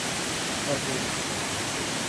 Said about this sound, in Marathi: हा निसर्गरम्य धबधबा आहे